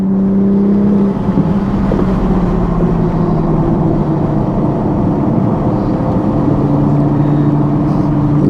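Toyota A90 Supra at speed on the Thunderhill race track, its engine a steady, loud drone with shifting tonal whine as the car carries through a corner, constant and close throughout with no talking.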